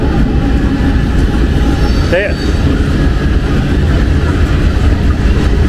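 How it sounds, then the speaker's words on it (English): A freight train rumbles past loudly and continuously in Coeburn, Virginia, with a dense rolling roar, while a voice briefly speaks over it. "I hear that train a-coming,"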